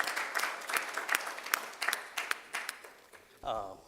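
Scattered hand claps from a business festival audience in Sharjah ring out unevenly for a speaker, followed by a voice starting to speak at the end.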